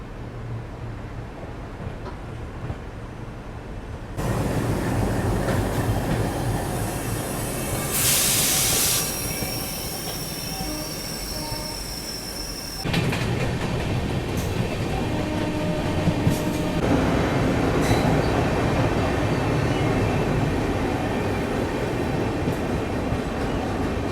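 A Garib Rath express with LHB coaches, running from Anand Vihar to Bhagalpur, rumbles along steadily with wheel noise and a faint high squeal, heard from inside the train, growing louder partway through.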